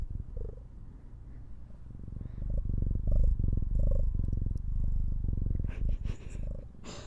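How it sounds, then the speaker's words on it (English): A cat named Stormy purring close up, a steady, deep rhythmic rumble that swells louder through the middle and keeps going throughout, with a few faint rustles near the end. "She purr."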